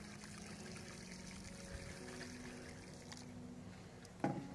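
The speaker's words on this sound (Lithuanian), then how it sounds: "Depilom dar vandens karšto" Hot water poured into a kazan cooking pork knuckle over an open fire, a faint, steady trickling and pouring sound with a brief sharper splash near the end.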